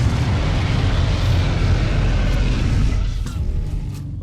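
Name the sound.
shooting at a Rex in the video game Ark Survival Ascended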